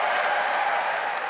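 Steady audience applause greets Prime Minister Keir Starmer as he arrives to speak in Liverpool, a dense wash of clapping from a large hall, loud and continuous.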